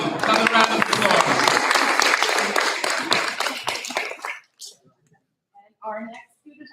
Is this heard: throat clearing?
no